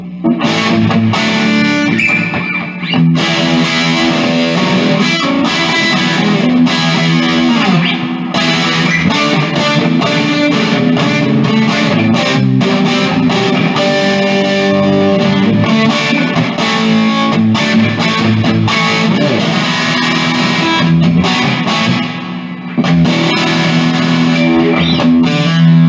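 An Artist TweedTone20R 20-watt tube guitar combo amp with the gain near 10 o'clock drives a distorted electric guitar, playing loud, continuous chords and riffs with only brief pauses.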